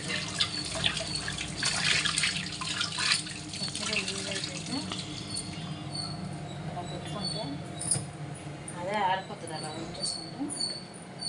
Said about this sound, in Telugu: చక్కగా సబ్బు పెట్టి చక్కగా వాష్ చేసుకోండి. వాషింగ్ చేస్తాను.